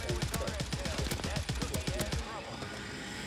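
Rapid assault rifle fire from a fast-firing AR in Warzone, a dense stream of sharp shots for about two seconds, loud and close, then stopping abruptly into background noise.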